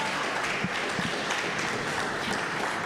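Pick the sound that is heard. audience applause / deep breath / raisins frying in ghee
audience applause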